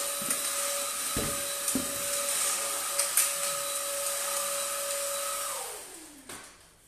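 A cordless vacuum cleaner cleaning a floor gives a steady motor whine with a high-pitched tone, holding level for several seconds, then the pitch drops as it powers down near the end. No talking.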